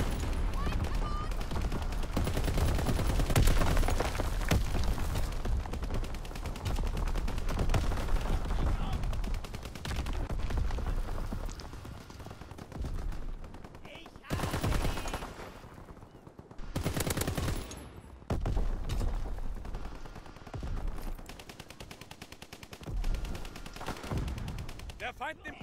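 Gunfire and heavy artillery blasts rumble through a video game battle, a dense continuous barrage at first that thins into separated booms and bursts later on.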